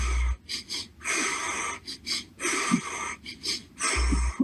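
Quick, rapid breathing in a steady run of short, sharp huffs, about eight or nine close breaths in a row with brief gaps, no talking.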